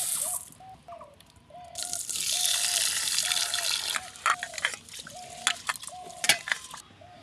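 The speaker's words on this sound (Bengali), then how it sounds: "প্রথমে আমি ডালটা ধুয়ে নিচ্ছি।" Red lentils being washed in water, with splashing, swishing and dripping close by, starting gently, then a steady rush of water followed by intermittent splashes and drips, alone, against a faint repeating background tone.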